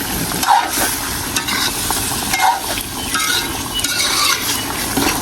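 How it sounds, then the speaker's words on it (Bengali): Meat frying in a karahi (wok), a dense continuous sizzle with scraping and light metallic clinks from stirring, steady and close throughout. "এদিকে আমি মাংস দিয়েছি কড়াইতে"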